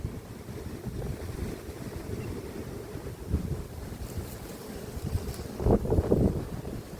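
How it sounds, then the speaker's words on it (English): Gusty wind buffets the microphone outdoors at a beehive apiary, with low rumbling bursts that swell and fade, strongest near the end. "It's a bit windy though, a bit blowy."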